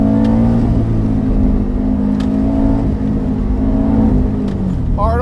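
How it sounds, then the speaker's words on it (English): A 2006 Subaru STI engine held high against the rev limiter while driving hard, a loud, steady, buzzing drone with faint pitch steps throughout, close to the microphone. "Probably hitting the limiter. Yeah. On the limiter already."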